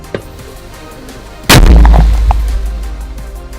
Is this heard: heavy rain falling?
no